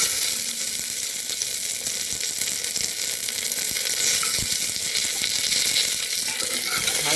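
Cashews fry with bay leaves in oil inside a pressure cooker while being gently stirred, giving a continuous bright sizzle with soft scraping underneath.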